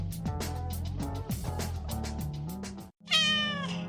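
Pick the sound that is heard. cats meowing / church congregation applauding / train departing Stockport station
cats meowing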